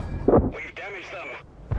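In the World of Tanks video game, a tank cannon fires a single short, heavy boom, followed by a brief voice.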